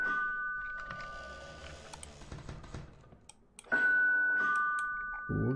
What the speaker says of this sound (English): Check who is ringing the doorbell.